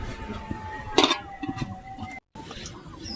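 A metal lid clatters down onto a cooking pot of taro greens with one clear clinking knock, followed by quieter kitchen clatter and low background noise.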